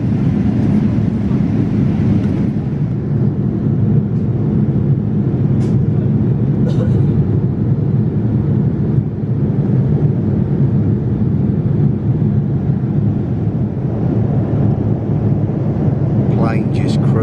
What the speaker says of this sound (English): Plane just cruising at altitude